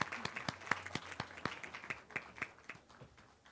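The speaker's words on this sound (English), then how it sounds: "Round of applause." An audience at a nursing white coat ceremony applauds with distinct, fairly quiet claps in a loose, uneven rhythm from a smallish crowd.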